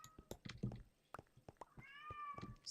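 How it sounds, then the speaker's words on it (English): A pet cat named Spirit meows at close range, a drawn-out, rising-and-falling call near the end amid soft clicks and handling noises in a quiet room. "What you meowing for?"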